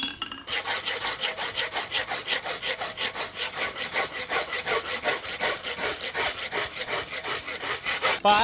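A blacksmith files the fuller of an eggbar horseshoe at a world championship contest, giving fast, even rasping strokes, close and loud, repeating steadily with no pauses.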